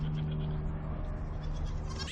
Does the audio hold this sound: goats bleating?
yes